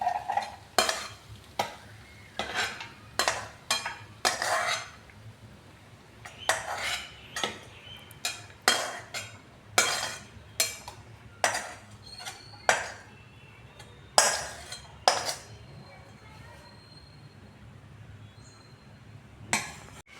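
Masala fried rice is scooped from a pan into a serving bowl, giving a run of sharp metallic spoon scrapes and clinks that repeat close and irregular over a soft background hum, with no talk.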